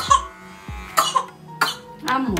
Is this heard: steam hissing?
no